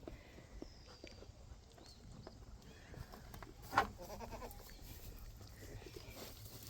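Goats moving about inside a shed, with faint scuffling and shuffling steps and a brief louder bleat-like call near the middle, under quiet ambient noise and no talking.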